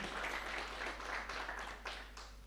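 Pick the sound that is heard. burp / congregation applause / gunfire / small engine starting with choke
congregation applause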